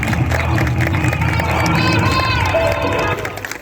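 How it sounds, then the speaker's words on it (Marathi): A large crowd at a Hindu gathering in Mehkar claps and cheers loudly for children, a dense roar of clapping and voices that holds steady before dropping off near the end. "जोरदार टाळ्या वाजवून आपण मुलांचं कौतुक करूया."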